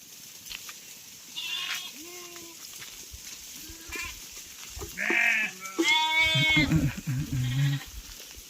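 Several sheep bleat one after another in a village field, some close and loud, others fainter, with overlapping calls growing busier toward the end.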